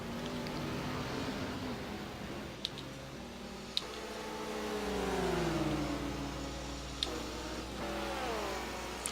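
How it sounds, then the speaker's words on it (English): A GT1 race car accelerates hard down the straight at Paul Ricard, its engine note climbing through rising harmonics and sustained at a steady loud level, with a few sharp ticks on top and no voices. "And Matt Taylor just drives away down the straight."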